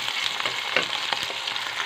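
Onions frying to a light golden colour for a potato and chicken curry, a dense continuous sizzle with small crackles and faint stirring, close and without talk.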